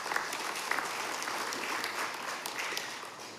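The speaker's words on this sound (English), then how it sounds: "Let's give them a round of applause." Sustained applause from a seated audience at a parliamentary orientation for members-elect, dense steady clapping filling the room without a break.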